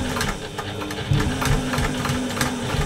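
Close, steady mechanical chatter of a sewing machine back-stitching across a bag strap, needle strokes rattling rapidly with a slight lift in intensity partway through.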